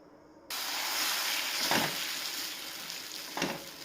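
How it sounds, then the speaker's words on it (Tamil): Fermented wheat flour dosa batter hits a hot pan and breaks into a sudden, steady sizzle that keeps hissing close and clear, with small crackling swells. "இப்போ நம்ம மிக்ஸ் பண்ணி நம்ம தோசை ஊற்றிக்கலாம்."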